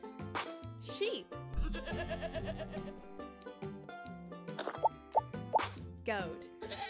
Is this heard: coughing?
no